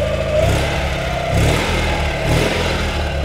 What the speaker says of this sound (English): You can just hear how sweet the little engine is.